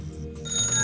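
A telephone rings in a steady electronic ring pattern, fairly loud and close, with no talk over it.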